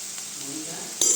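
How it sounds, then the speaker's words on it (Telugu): Green chillies and curry leaves frying in a pan for a beetroot moong dal curry, a brief steady sizzle with a small clink near the end. "పచ్చిమిర్చి, కరివేపాకుని వేసి కొంచెం సేపు ఫ్రై అవ్వనిస్తున్నాను"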